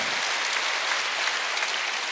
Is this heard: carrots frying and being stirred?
no